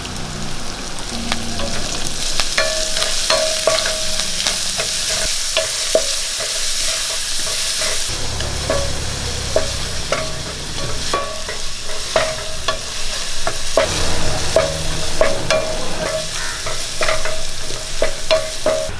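Chopped onion and curry leaves fry in a pan, giving a continuous sizzle broken by scraping and clinking of a stirring spoon, loud and close with no voices.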